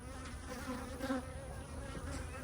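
Honeybees in an opened hive box drone in a steady, low, agitated buzz that stays fairly quiet and constant throughout, with no voices.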